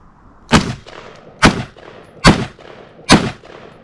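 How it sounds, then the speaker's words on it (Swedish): Four sharp, loud rifle shots from an H&K 243 in .223 ring out at a steady pace about a second apart, each fired at a separate target with a short echoing tail, with no talk. "Jag ska försöka ta ett skott mot varje måltavla"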